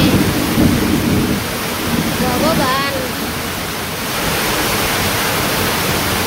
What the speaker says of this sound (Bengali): আর বৃষ্টির ফুটাগুলো দেখেন কত বড় বড়